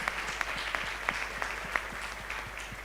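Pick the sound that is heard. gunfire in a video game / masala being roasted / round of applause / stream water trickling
round of applause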